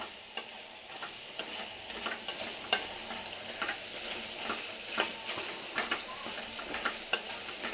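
Chicken gravy is stirred in a pan, with a soft, continuous sizzle broken by frequent light clicks and scrapes of a spoon. The sound is faint and close, with no talking.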